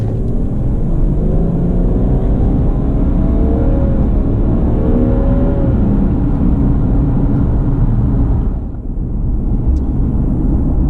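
A 2017 Subaru Legacy 3.6R with its 3.6-liter engine and CVT accelerates, a loud continuous engine drone with rising tones under heavy road rumble, dipping briefly near the end.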